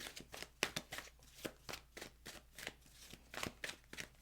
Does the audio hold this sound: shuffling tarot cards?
yes